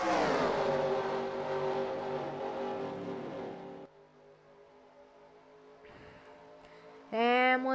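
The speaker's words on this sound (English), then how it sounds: "Hearing these cars roar on the get up to speed lap." Race cars roar in a Daytona 500 racing sim video game, a loud layered engine drone that drops to a quieter hum, then a sharp high-pitched revving burst near the end.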